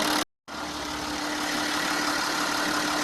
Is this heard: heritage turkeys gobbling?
no